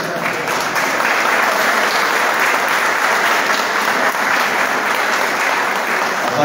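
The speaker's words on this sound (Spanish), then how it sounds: "Nora, un aplauso." Loud, sustained applause from an audience at a choir gathering in Río Primero, a dense wash of clapping hands that holds steady throughout.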